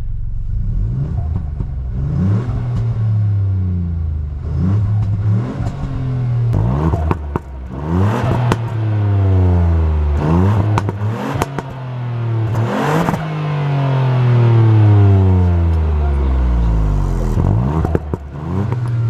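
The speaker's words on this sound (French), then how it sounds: "on a des petites pétarades qui viennent sur l'échappement" A Ford Puma ST in sport or track mode revs up and down repeatedly, its engine note rising and falling in sweeping surges, with crackling exhaust pops and backfire bursts around 3000 rpm, loud and close.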